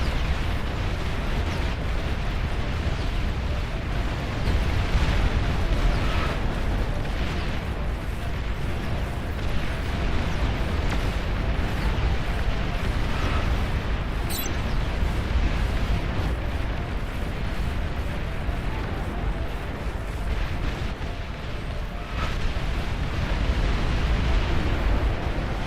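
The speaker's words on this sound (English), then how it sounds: "Starting to scatter rockets from another side." Rocket explosions rumble continuously through a massive Beyond All Reason real-time strategy battle. A dense, steady roar of overlapping blasts and pops goes on for the whole stretch with no clear pauses.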